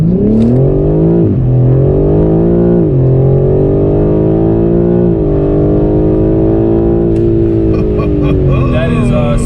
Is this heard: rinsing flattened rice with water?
no